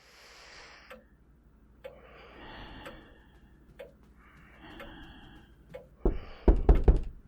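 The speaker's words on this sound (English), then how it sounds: "I awoke to a loud knocking," Loud knocking on a door as an audiobook sound effect: sparse soft ticks and a faint background wash, then a cluster of heavy, close, thudding knocks at the end.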